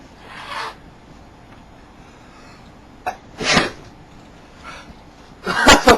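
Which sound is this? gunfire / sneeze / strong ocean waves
sneeze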